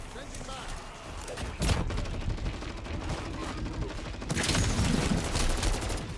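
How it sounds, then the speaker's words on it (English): A battle rifle hipfired in Modern Warfare 3 Zombies, with dense rapid shots that run almost unbroken at close range, mixed with game noise and picking up near the end. "Maybe the battle rifle hipfire isn't good."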